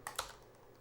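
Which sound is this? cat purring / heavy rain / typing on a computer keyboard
typing on a computer keyboard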